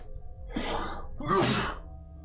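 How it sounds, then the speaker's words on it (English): One close, loud human sneeze: a breathy intake builds for about half a second, then a sharp, forceful explosive burst, with nothing else in between. "My daily sneeze."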